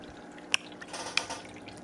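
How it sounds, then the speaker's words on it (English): A couple of quick wet splashes as bass smack the water's surface in a tank, brief and separated, against a quiet background. "Hear them smacking the top of the water."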